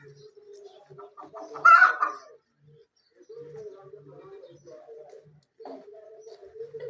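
A hen clucks from a coop on a Punjab village farm in the early morning. A few soft, separate clucks and calls come close by in quiet surroundings, with one louder burst near the start.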